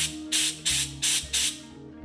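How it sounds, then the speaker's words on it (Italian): Compressed air blasted through the fuel circuits of a carburetor in four short, loud hissing bursts at a steady rhythm, heard up close with no talking. "Basta semplicemente soffiare aria compressa dai circuiti della benzina e sentire da dove esce"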